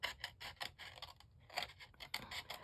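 Scissors cut vellum cupcake liner paper in a quick series of crisp, close snips with faint scraping. The cutting is quiet and steady, with no voices.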